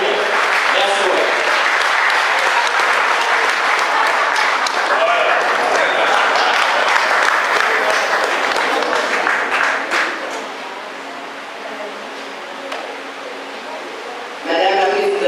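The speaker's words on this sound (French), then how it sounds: "Je vous demande d'applaudir Marie-Camille Boulet." Loud, sustained applause from a crowd at a French-speaking political rally for a candidacy declaration in Capesterre-Belle-Eau, steady clapping for about ten seconds before easing to a softer patter and swelling again near the end.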